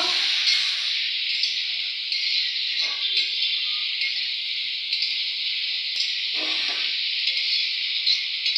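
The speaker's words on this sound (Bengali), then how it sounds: "টমেটোগুলো ভালো করে একসঙ্গে কষিয়ে নেব।" Tomatoes sauté in a pan with ginger for a Bengali rui fish curry, giving a close, continuous sizzling hiss with a couple of brief scraping stirs mixed in.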